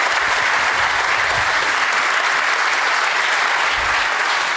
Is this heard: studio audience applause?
yes